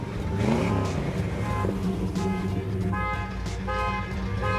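A 1964 Chevrolet Impala engine idles and is given a bit of gas, producing a steady, loud rumble that rises and falls slightly with throttle blips, with no talk.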